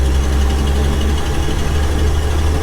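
A Ford F500 barn find truck engine runs at a loud, steady idle, a deep continuous rumble heard close up with no talking.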